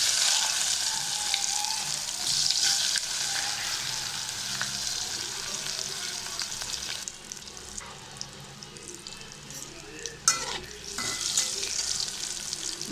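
Marinated elephant foot yam fries in hot oil, a continuous close sizzling hiss that thins and drops in level partway through, broken by a few brief clatters and stirring knocks, with no voices.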